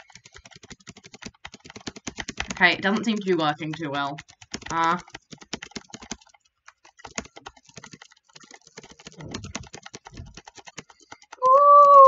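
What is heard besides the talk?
computer keyboard keys pressed rapidly: W, space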